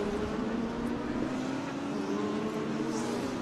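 A Bentley GT race car in an ADAC GT Masters race at the Lausitzring drones steadily while closing on the turn 1 left-hander under hard braking, a continuous engine roar heard from a distance without a distinct pass-by.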